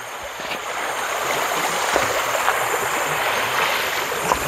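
River flowing past a forest campsite in Perak, a steady broadband rush of running water, close and constant with no pauses.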